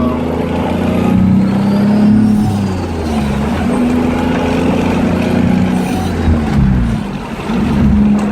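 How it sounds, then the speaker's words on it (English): A turbocharged car engine idling, fitted with a 3S-GTE and an idle air control valve stuck open, with compressor surge; a loud, close, rumbling idle with wavering fluttery pulses that rise and fall, no talking. "because of my idle air control valve opened up, like, I'm getting some compressor surge"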